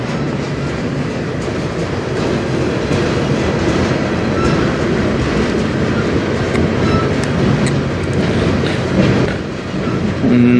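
A slow freight train rolls past on the Strathroy Sub near Sarnia, a loud, close, steady rumble of wheels and railcars clattering without pause.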